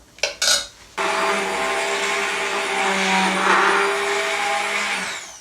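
A blender purees spinach for soup: after a few brief clatters it starts up and runs with a loud, steady whirring drone close by, then begins to wind down at the end.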